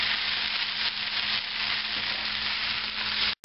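Japanese-style fried rice sizzling in a hot pan with little or no oil: a loud, even, continuous hiss close up that cuts off abruptly at the end.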